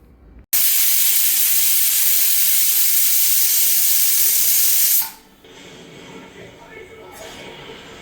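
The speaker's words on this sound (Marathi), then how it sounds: "आपलं पाणी मस्त खळखळून उकळतं आहे" Water boils hard with a loud, steady hiss and roar for several seconds, then cuts off abruptly, leaving a quieter low bubbling rumble.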